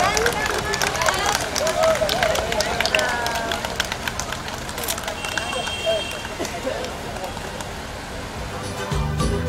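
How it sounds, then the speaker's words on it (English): Audience at a puppet festival giving a round of applause, a busy continuous crowd clapping with cheering and babble mixed in, fading slightly before a final bump. "Can we have a huge round of applause for each one of them?"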